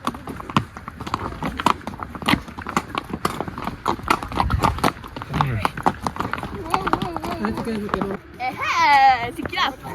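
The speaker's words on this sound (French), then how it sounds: "Alors ça y est, on est sur nos chevaux et c'est trop bien." Horses walk along a volcano trail, hooves clip-clopping in a quick, uneven rhythm close by, while people, including children, chatter over them and a high voice rises near the end.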